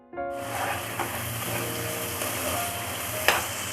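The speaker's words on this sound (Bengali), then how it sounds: "এবার আমি কড়াইতে তেল দিয়ে দিচ্ছি এখন আমি তরকারিটা রান্না" Oil sizzling steadily in a wok (kadai) while cooking an Indian potato and cauliflower curry, a continuous close frying hiss with a faint clink or stir near the end, no talking.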